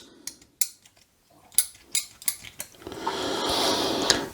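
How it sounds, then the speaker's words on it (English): A Campden tablet is crushed between two metal spoons: sharp clinks and scrapes come first, then a sustained grinding, rocking crunch as the tablet is pressed into powder. "pop it in a spoon, put another spoon on top, press hard and sort of rock"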